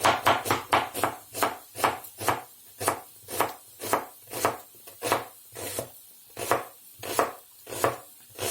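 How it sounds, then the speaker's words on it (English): A knife chops onions on a board in a home kitchen, with fast, close, crisp strikes in a steady rhythm and brief pauses between bursts, heard alone without talk. "while that garlic is starting to sizzle, I'll get my onions chopped"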